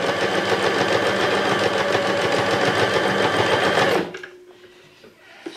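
Steady, loud mechanical whirring and rapid ticking of a Stirling sewing machine running a straight stitch, holding constant for about four seconds before it stops abruptly, leaving near quiet with faint handling.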